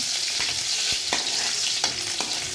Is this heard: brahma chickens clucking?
no